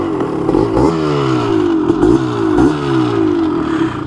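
A Suzuki LT250R quad's two-stroke engine runs after a kick start, close and loud, with rising and falling revs in repeated blips and a steady raspy idle between them.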